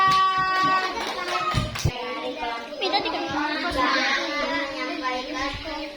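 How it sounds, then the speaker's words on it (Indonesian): A classroom of students applauds a group of classmates, with a dense patter of hand claps mixed with children's chatter and a teacher's voice throughout. "Kasih tepuk tangan untuk kelompok 2."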